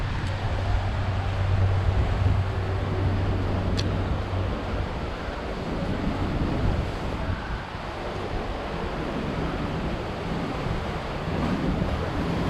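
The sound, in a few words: ocean waves at Repulse Bay Beach, Hong Kong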